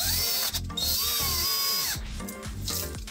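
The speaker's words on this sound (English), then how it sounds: "And now just get your screw gun." A screw gun drives screws into a wall to mount a surge protector, close and loud with rising and falling motor whine in short bursts and pitch sweeps as each screw seats.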